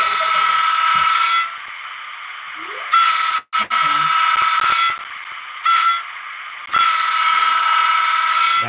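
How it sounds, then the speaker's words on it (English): A model train horn sounds in long, sustained blasts, a buzzy whistle-like tone that sounds in three or four bursts with short gaps between them. "Tell me if this horn sounds like the real life horn."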